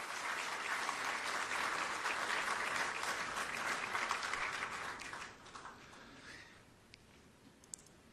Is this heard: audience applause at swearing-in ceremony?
yes